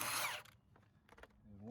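Milwaukee power tool spinning on a 9/16 bolt clamped in a vise, a short whirring burst at the start, then faint clicks and handling noise.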